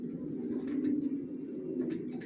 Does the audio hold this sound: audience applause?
no